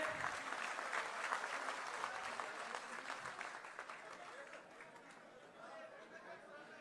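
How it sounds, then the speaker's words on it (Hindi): Sustained applause at a political event welcoming a chief minister in Ambala, a large crowd clapping steadily with chatter mixed in, the claps fading slightly toward the end. "तालियां रुकनी नहीं चाहिए।"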